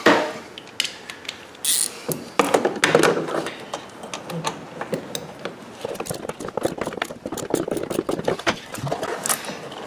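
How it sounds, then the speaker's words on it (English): A socket wrench loosens a bolt on car parts, giving rapid ratcheting clicks in uneven bursts, close and fairly loud, with brief pauses between strokes. "I think I have it loose enough that I can get it just with a socket now"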